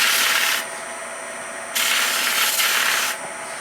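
Wood being sanded with a homemade drill-powered sanding tool, a loud rasping hiss that runs in two long bursts with a quieter gap between them and then drops off, with no talk.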